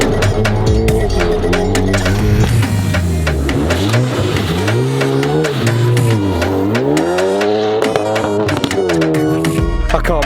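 A rally-converted wide-body Hyundai i30N revs hard while being driven, its engine pitch rising and falling through repeated loud acceleration sweeps close by, with bursts of mechanical clatter.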